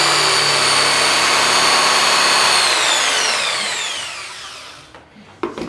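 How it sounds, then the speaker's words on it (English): A jigsaw cuts a small cherry tabletop along a traced line, a loud steady buzzing saw run that holds for about four seconds, then winds down and stops, followed by a few faint handling knocks. "I'm going to take a jigsaw and I'm going to follow this line all the way around"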